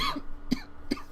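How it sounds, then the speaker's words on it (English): Someone coughing in short bursts, three quick coughs spaced roughly evenly, fairly close and moderately quiet, with no speech. "I was coughing way too much there."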